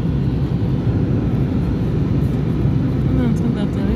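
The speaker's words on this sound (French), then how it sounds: "On est en train d'atterrir." Airplane landing, with a steady, loud cabin rumble of engine and airflow noise running through the whole stretch, with faint voices beneath it.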